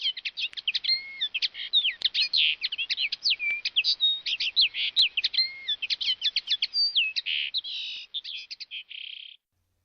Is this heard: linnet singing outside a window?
yes